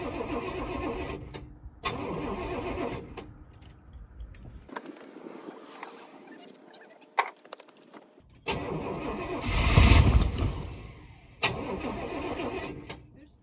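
Engine of a 1989 GMC Suburban 4x4, abandoned for eighteen years, cranking and rumbling in uneven bursts with quiet gaps between, then surging louder for a moment before settling; a voice speaks in between.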